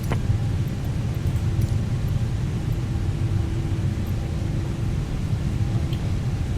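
An A380 airliner taxiing, heard from inside as a steady, loud low rumble of engines and airframe with a faint constant hum, unbroken throughout.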